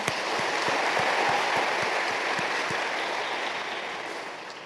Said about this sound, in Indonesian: kita beri aplaus untuk WKRI